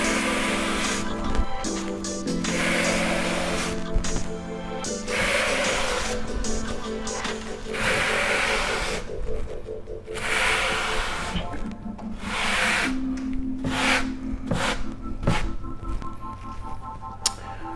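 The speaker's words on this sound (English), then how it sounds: "then we're gonna take our scratch tool" A scratch tool scraping freshly applied Venetian plaster on a wall in vertical strokes, rough rasping passes repeated in bursts with brief pauses, close and fairly loud.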